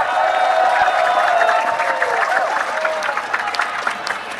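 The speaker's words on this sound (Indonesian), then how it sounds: "Tepuk tangan sekali lagi untuk Rocky Gerung." Applause from an audience at a public discussion event, clapping for a guest speaker, a busy crowd wash with some tonal sound layered over it, fairly loud throughout.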